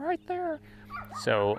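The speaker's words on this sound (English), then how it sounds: "that's my dog barking down there." A dog barks far off at the bottom of a hill below rural land. The short yelping barks are heard while someone talks close by.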